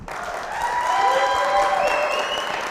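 Audience applause for a guest speaker at a talk, a sustained, even wave of clapping from a crowd, steady and fairly loud from start to finish.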